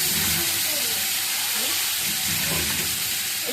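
Pieces of food coated in turmeric and a little salt sizzle in hot oil, a loud continuous frying hiss with crackling bursts, heard close with no break.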